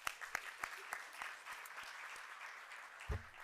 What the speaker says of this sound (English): let's give a round of applause to Impact